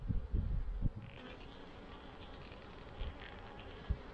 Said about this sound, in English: We got some bees in here.